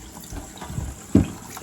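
Cold tap water rinsing drawing fluid out of a screen-printing screen, a soft continuous splashing and gurgling with a brief louder splash near the end, close by and without talk.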